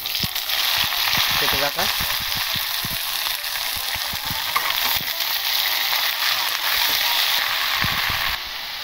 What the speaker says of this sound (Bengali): এবার দেখো এর মধ্যে দিয়ে দেবো লাউ শাকটা, ঢেলে দেবো ওতে